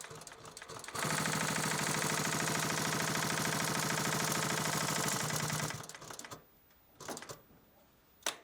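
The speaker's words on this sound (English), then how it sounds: "we need to stitch our reinforcement strip onto the bison leather" A sewing machine stitches a reinforcement strip onto bison leather, running in one steady, fast, even rhythmic hum for several seconds before stopping, then giving two short later bursts, with no talk.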